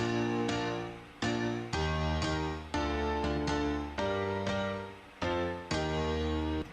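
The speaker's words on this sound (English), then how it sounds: "And then that's layered with this piano." A piano layer from a pop chorus, with repeated chords struck in a bouncy rhythm, each attack sustaining and decaying before the next, played alone and up close with no voices.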